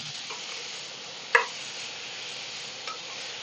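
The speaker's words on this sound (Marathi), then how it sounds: "छान लसणावर आपण परतून काढूया" Pieces of mori (mushi) fish, a shark, sautéing on garlic in a pan for a Malvani masala, a soft steady sizzle with one sharp stir or clink of a utensil partway through and a fainter one near the end.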